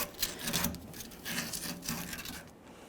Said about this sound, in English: Use a piece of sandpaper here.